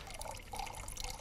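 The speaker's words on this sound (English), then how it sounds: "let's see what happens when I pour the liquid from this beaker into this one" Liquid poured from one glass beaker into another during a chemistry demonstration, a steady faint trickling splash running continuously for about a second with no voice over it.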